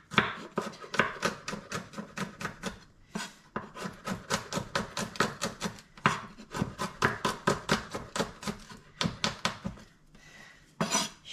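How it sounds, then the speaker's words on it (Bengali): Garlic cloves being sliced thinly with a knife on a cutting board, a steady run of crisp, rapid chopping taps close up with short pauses, no talking. "এগুলোকে সুন্দর করে চিকন চিকন করে আমি স্লাইস করে নেব।"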